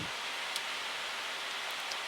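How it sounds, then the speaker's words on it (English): Rain patters steadily on a Boeing 737 MAX in gusty weather at Rovaniemi, a dense, even hiss with no talking. "but it's been raining now as well."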